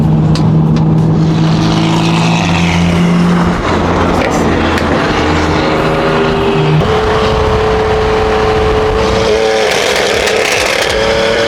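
A loud sports car with a titanium exhaust roars continuously up close, its exhaust note rising and shifting through the revs with a raspy, droning tone.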